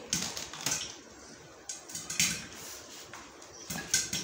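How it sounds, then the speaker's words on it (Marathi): Popcorn kernels pop in a pot on the stove, sharp irregular cracks and bursts scattered every fraction of a second, fairly close and alone with no talking. "मस्त आपल्याला हे पॉपकॉर्नची मका कशी फुटत आहे, आपले पॉपकॉर्न तयार होत आहे पातेल्यामध्ये"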